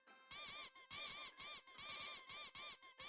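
Cartoonish duck squeaks from a retro video game, a quick series of about seven or eight bright, high rubbery squeaks in uneven bursts, clear and alone with no talking.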